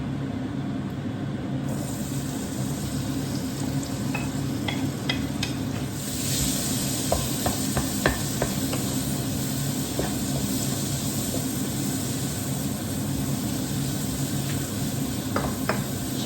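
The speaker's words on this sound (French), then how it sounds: "Je vais mettre les oignons et le poivron." Onions and bell pepper fry in a pan with a steady close sizzle, and sharp little pops and crackles scatter through it.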